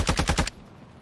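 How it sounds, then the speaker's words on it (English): Rapid bursts of automatic gunfire in a battle-royale style video game, four quick pulsing volleys close and loud for half a second, then a quiet fade. "they're getting shot at from the other side"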